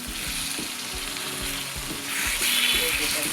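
Boiled papaya for bharta hitting a hot pan with onion, a loud continuous sizzle that swells as it lands, with soft rhythmic stirring knocks underneath, close and without talk.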